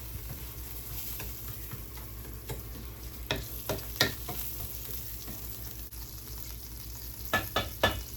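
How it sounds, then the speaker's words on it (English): Italian breadcrumbs browning in oil in a pan, giving a soft, continuous close sizzle broken by light scraping clicks from stirring, with no talking. "Now the breadcrumbs are soaking up the oil, so we're just going to leave them here to brown."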